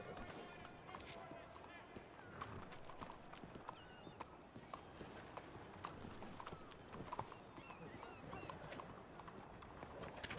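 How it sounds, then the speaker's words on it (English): A large herd of horses gallops in the Red Dead WildRP video game, dense overlapping hoofbeats clattering continuously with an occasional whinny, loud and close, while a voice talks over them. "Oh, lots of horses. Holy shit,"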